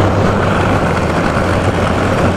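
The engine of a newly delivered car revving under acceleration, a loud, dense, unbroken roar held close for the whole stretch without speech.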